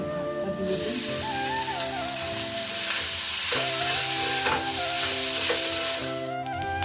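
Cooked rice being stir-fried in a pan with cumin and onion for a school tiffin, a steady loud sizzle running throughout with background music-like tones layered over it.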